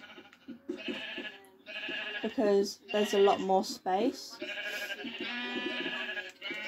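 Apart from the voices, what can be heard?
sheep bleating in video game Minecraft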